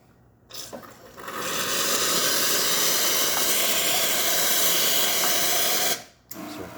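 Bezzera espresso machine hot water dispenser giving a steady, loud hissing rush of hot water and steam for about five seconds, starting and stopping abruptly, with no talk.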